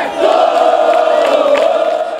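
Cruzeiro fans turn out in force at the Toca da Raposa for striker Dagoberto's official presentation, their crowd roar forming a loud, sustained chant-like drone for about two seconds.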